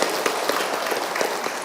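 A seated crowd of women at a large Ramadan Quran-study gathering in Medan claps together, a brief dense burst of applause, close and even in loudness, with no voices over it.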